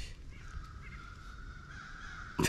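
A crow caws outdoors near a parked 2003 Jeep Wrangler, a steady call under faint background noise, with a brief louder bump at the very end.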